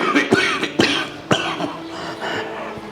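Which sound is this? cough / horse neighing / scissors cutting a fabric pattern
cough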